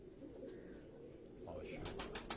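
Pigeons of a prized show breed heard faintly, with soft calls and a few short chirps toward the end under low background noise.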